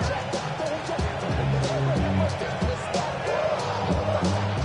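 Stadium crowd roaring in a Madden NFL game, Bengals at Ravens on a third-and-inches play, a steady loud wash of cheering and noise running throughout with a commentator's voice talking over it.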